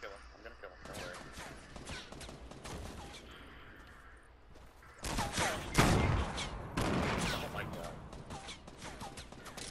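Rapid gunfire bursts from a Fortnite battle royale match, repeated volleys growing louder in the second half, with players talking excitedly over the shooting.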